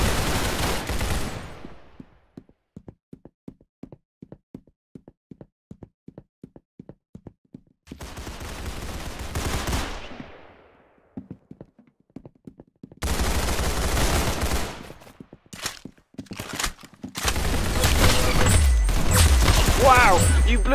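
Gunfire in the Roblox shooter game Arsenal: bursts of rapid shots and single cracks separated by short pauses, loud and sharp, with a stretch of quick rhythmic taps between volleys.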